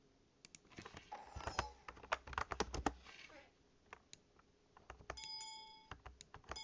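Someone types a trade message on a computer keyboard in a PVP game, a quick run of close, crisp key clicks in irregular bursts, followed by quieter tapping.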